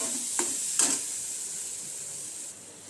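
Dal lentils frying lightly in a pan, a steady soft sizzle with two brief scraping stir strokes near the start, close and fairly quiet, no voices.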